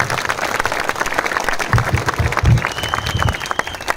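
Applause at a victory rally in Sangola honouring Babasaheb Deshmukh and his family: a crowd claps in a dense, steady patter, swelling slightly partway through.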